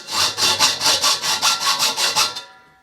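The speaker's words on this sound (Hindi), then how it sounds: "मैं आरी से काट लेता हूँ।" A hand saw working through a metal cylinder, about ten rhythmic back-and-forth rasping strokes, close and loud, ending abruptly.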